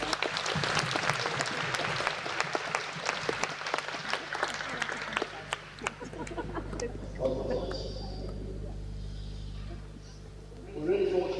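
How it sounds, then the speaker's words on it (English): Spectators at an independent schools netball league match clap for several seconds, a lively burst of applause that fades out, followed by quieter room noise and a voice. "Congratulate yourselves with a round of applause"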